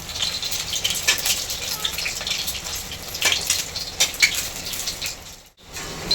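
Eggs frying in a kadhai give a bright, continuous sizzle with scattered crackles and pops. A brief near-silent gap comes just before the end.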